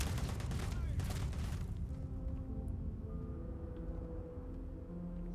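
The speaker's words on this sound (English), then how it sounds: "Are they shooting at us?" Enemies open fire in the sci-fi game Field of Stars: a dense burst of gunshots for about two seconds, then it drops off to a low droning hum with faint tonal notes.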